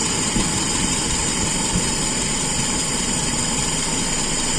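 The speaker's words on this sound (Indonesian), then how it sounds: "Tapi kalau mau akurat ya seperti ini, kita turunkan mesin RPM-nya." Carburetor engine idling with its RPM turned down, a steady loud continuous rumble with an even drone and no breaks, close to the engine.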